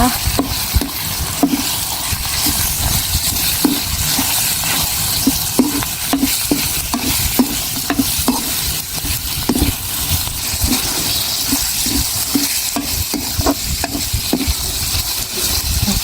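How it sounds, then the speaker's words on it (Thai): Minced pork and red curry paste stir-fried in a pan, with a steady loud sizzle and repeated rhythmic scraping and clacking strokes of a utensil throughout. "ผัดให้พริกแกงกับหมูเข้ากันดีนะจ๊ะ"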